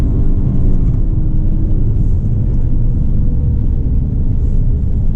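A lifted 2020 Subaru Ascent accelerating on a road, heard from inside as a loud, steady low engine and road rumble with tyre whir, constant throughout with no talking.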